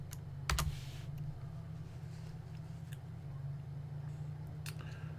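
Keys click softly on a computer keyboard as a folder name is typed, a few quiet, light taps over a low steady room hum.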